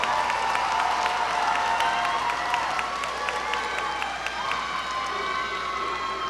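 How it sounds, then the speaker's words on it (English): A large crowd applauds steadily for a row of graduates at a high school graduation ceremony, with sustained clapping mixed with cheers and a few shouts throughout. "Please give the graduates in row 7 a round of applause."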